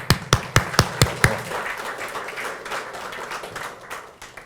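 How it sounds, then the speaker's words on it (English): Several sharp claps ring out one after another, then thin into a scattered patter of applause from a small audience that fades away. "Round of applause."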